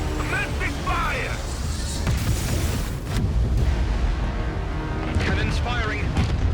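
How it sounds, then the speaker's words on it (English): Naval cannons firing in an Ace Combat 8 game trailer: heavy booming blasts and rumbling explosions, loud and close, mixed with dramatic trailer sound and radio-style voices. "Cannons firing."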